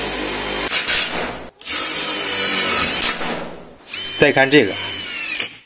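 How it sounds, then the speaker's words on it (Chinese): A Worx 132X impact driver with an 8mm socket drives a self-drilling screw, loud close whirring bursts that break into rapid hammering impacts before cutting off, with brief speech between bursts. "八毫米套筒直接上这种钻尾丝，看它的自停功能"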